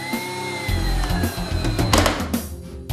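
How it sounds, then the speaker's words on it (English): A power driver whirs in short bursts close by, its motor rising and falling as a clamping screw is driven into a hole in wood. "A clamping screw is then screwed into the hole."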